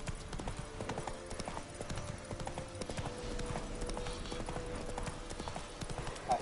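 Horse hooves clip-clop at a steady walking rhythm in The Witcher 3 video game, a continuous patter of hoofbeats over a low ambient bed, with an occasional faint whinny-like tone.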